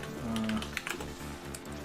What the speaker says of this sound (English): Just typing different things into Google